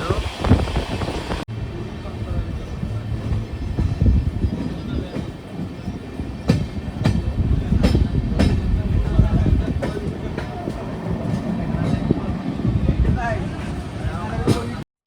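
Haripriya Express train passing Rajampet station without stopping, heard from on board as a steady heavy rail rumble with repeated sharp clacks from wheels over joints, a voice speaking over it.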